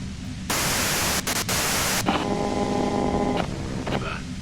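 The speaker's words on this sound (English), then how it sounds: "you can do it through the white noise" Loud broadband radio static hisses in Disco Elysium, cutting in abruptly with two brief dropouts, then thinning as faint steady tones and a murmur of a voice sit beneath the crackle.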